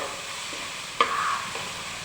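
Crushed onion, garlic and chilies stirred into a sizzling pan of chicken roast give a steady, close frying hiss with a sharp scrape or clatter near the middle.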